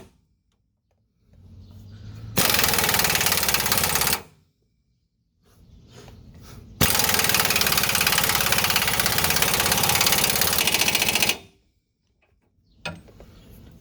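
Impact wrench running a track bar bolt down tight on a 1999-2004 Ford Super Duty during a polyurethane bushing install, two long loud rattling bursts, the first about two seconds and the second about four and a half, separated by quiet gaps.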